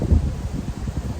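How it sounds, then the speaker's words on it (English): Breezy outdoor wind in Austin, Texas, rumbling in low, uneven gusts across the microphone with a soft rustle, steady and fairly loud throughout, no voices. "A little breezy here in Austin, Texas today"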